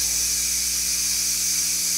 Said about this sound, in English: So that quick release, as soon as the button pops back down and the steam stops